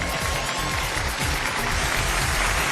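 Studio audience applause on a Chinese relationship TV show as a couple is welcomed onstage: a broad, even wash of clapping mixed with loud music, continuous and undifferentiated with no clear individual claps.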